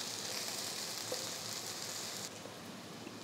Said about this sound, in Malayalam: ഇതുപോലെ ഇടയ്ക്കിടയ്ക്ക് ഇങ്ങനെ ഇളക്കി കൊടുക്കണം, എന്നിട്ട് നിരത്തിയിടണം.